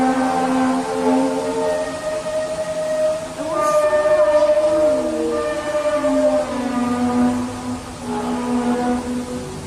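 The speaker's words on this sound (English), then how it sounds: "One of the more popular trumpet sounds videos is from Terrace," Mysterious trumpet-like sky sounds recorded in Terrace, British Columbia: loud, drawn-out droning tones that slowly bend and wail over a steady rumbling background, like a distant horn or train, with no voices.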